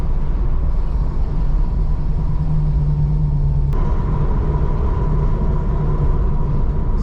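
Tuned car engine pulling under light throttle on the road, a steady low rumble and drone from inside the cabin that holds level throughout, with a faint hum shift partway through.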